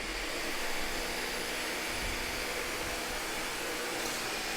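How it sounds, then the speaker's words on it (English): A Dyson Gen 5 Detect cordless vacuum cleaner runs in auto mode with a loud, steady high-pitched whir of suction and motor, continuous and close, with only slight shifts in intensity. "you'll hear the suction power increase and go back down"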